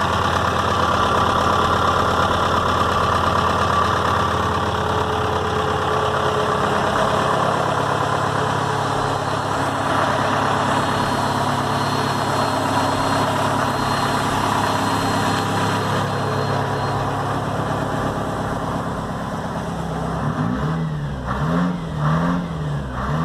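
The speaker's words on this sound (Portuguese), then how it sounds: "o Chevrolet com motor Detroit, com esse som característico que me fazia parar nas avenidas e ruas de São Paulo" A Chevrolet truck with a Detroit diesel engine runs steadily at a rough, throbbing idle, loud and close, with a few uneven revs near the end and no talking.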